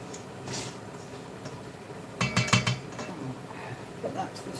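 A utensil scrapes around the edge of a mixing bowl of batter, a quick cluster of scratchy clinking strokes in the middle, over faint background noise.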